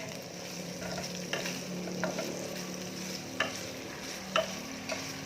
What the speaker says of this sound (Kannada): ಪನ್ನೀರೆಲ್ಲ ಫ್ರೈ ಆಗಿ ಹೋಗ್ತಾ ಇದೆ